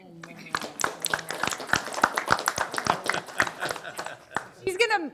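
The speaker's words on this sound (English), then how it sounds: "Everybody give Carol a round of applause." People at a township board of supervisors meeting clap for a staff member, a moderate stretch of scattered, fairly close handclaps with voices chatting and laughing over them throughout.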